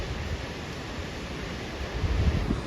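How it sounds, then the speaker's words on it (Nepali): Strong wind blows during rain around a house, making a steady, dense rushing roar close to the microphone that swells slightly near the end, with no one talking. "ओहो ल हावा कस्तो चलेको"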